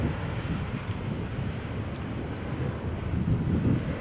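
An airliner accelerates down runway 13 at Malaga Airport on a stormy morning, giving a steady loud low roar of engine and wind noise that swells slightly toward the end.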